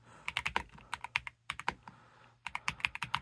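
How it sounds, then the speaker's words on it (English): Typing on a Redragon three-mode mechanical keyboard, clicky keystrokes close up in quick irregular bursts with a short pause in the middle, heard alone. "I'm just going to type for a second so you can hear the type sounds."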